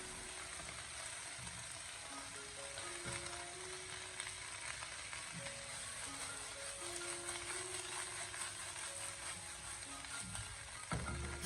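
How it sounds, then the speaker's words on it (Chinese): Cabbage stir-fried in a wok over high heat: a steady, soft sizzle and crackle of frying greens with light scraping of stirring, while faint sustained tones sit underneath. "开大火进行快速的翻炒，让青菜在最短的时间里快速的成熟"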